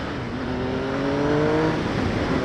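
A Triumph Speed Triple R motorcycle engine revs up steadily toward its high redline, a loud, continuous rising whine heard alone.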